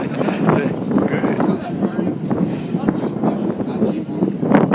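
Gusty wind buffets the microphone in a low, rumbling roar, with people talking over it outdoors at a festival in Kapiolani Park.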